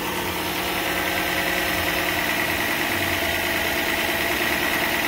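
A car engine idles steadily after a radiator replacement, with a constant dense rumble and hum at close range that holds throughout with no talking.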